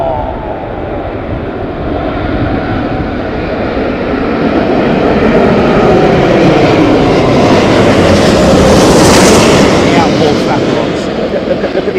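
An airliner fights a gusty crosswind on approach at Heathrow during Storm Ashley. Its loud, rushing engine roar builds and peaks toward the end, with wind noise mixed in and excited voices talking over it.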